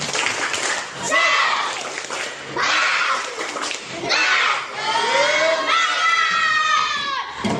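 A school class shouts a rhythmic spirit-clap chant in a classroom, children's voices yelling in unison in bursts with clapping mixed in, loud and near, repeated in several phrases.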